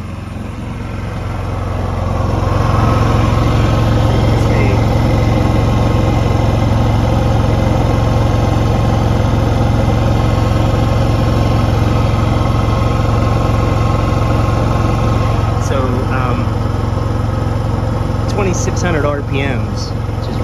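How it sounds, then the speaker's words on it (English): A propane-fueled portable generator engine runs under load, a loud, steady low hum and drone that swells up over the first few seconds and then holds, while a person talks over it. "I just happened to be outside when the generator kicked on, so I heard it rev up just a little bit"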